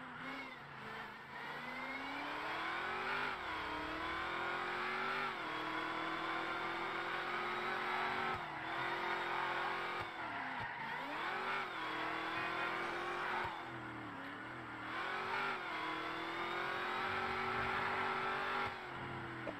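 A loud car engine revs continuously in a video game, its pitch rising and falling with repeated gear shifts and dips, with no talking over it.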